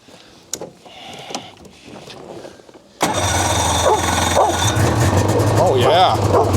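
A vehicle engine is cranked on battery power with no priming and catches about halfway through, then runs loud and steady. Quieter knocks and background noise come before it starts.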